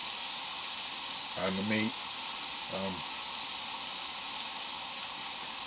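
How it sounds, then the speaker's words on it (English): Catfish fillets searing in a hot pan for blackened catfish, a steady broadband sizzle and hiss running throughout, with a voice speaking briefly over it. "you really want to get a good sear"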